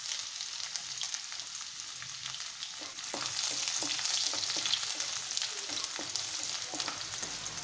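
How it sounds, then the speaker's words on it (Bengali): Chopped garlic, eight to ten cloves, frying in a generous amount of oil in a kadai, a steady bright sizzle with scattered crackles and a few clicks of stirring, growing a little louder halfway through. "আমি একটু কড়াইতে তেল দিচ্ছি, একটু বেশি দিলাম, দিয়ে এতে রসুন কুচি দিয়েছি"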